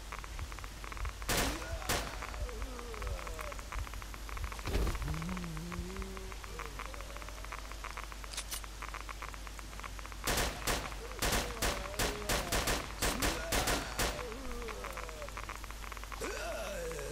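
Gunfire in a zombie shooter game: a couple of sharp shots early on, then a dense cluster of rapid bursts later, over a steady noisy backdrop with some voice-like sounds underneath.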